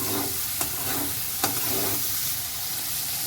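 Egg sizzles in a hot frying pan for pasta while being stirred, a continuous frying hiss with two sharp clinks of the utensil against the pan.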